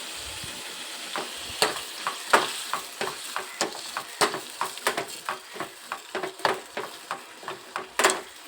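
Oil sizzles in a pan while a spatula stirs and scrapes in quick, repeated strokes, roughly fifteen sharp clacks over a steady low hiss, close and alone with no voices.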